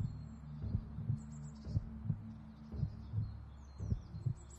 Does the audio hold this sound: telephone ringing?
no